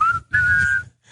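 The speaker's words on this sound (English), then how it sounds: "you got to whistle" Someone whistles two short tones, a brief note followed by a longer steady one, close and clear with no talking.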